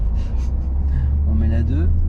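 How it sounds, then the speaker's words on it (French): A car pulling away in first gear, its low engine rumble rising near the end as it accelerates, with a person talking over it. "On accélère pour démarrer."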